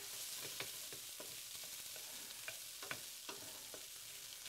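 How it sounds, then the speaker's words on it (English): Corn kernels sauté in a pan with tomatoes, a soft steady sizzle broken by scraping and clicking taps as the mixture is stirred, close and quiet, with no speech. "I'm going to dump in our corn kernels"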